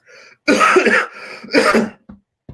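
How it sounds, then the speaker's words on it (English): A person coughs in two harsh bursts close up, followed by a couple of small throat sounds. "a little under the weather. Got some coughing."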